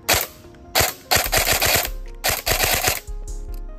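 Rapid bursts of airsoft DMR fire, each sharp BB shot close and loud, grouped in quick strings with short pauses between volleys, outdoors.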